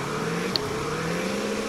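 Engine drone of a Ford F350 pickup sliding sideways in the off-road driving game Spintires MudRunner, a steady low hum with a rising pitch line, continuous and fairly close, no voices.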